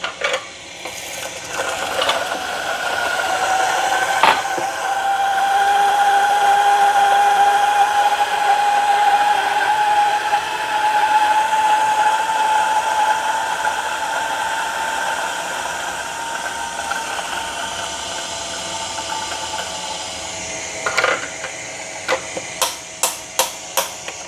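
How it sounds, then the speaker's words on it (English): A burr coffee grinder paired with an Elektra Micro Casa semiautomatic espresso machine runs at a fine setting, giving a steady close whirring grind for about twenty seconds before stopping, followed by a few sharp knocks and taps. "Let's turn on the grinder."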